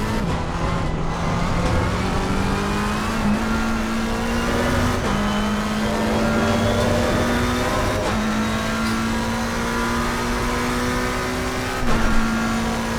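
McLaren race car in the Assetto Corsa racing game, its engine droning steadily loud with rising pitch through the gears and sharp drops at each upshift, sustained throughout.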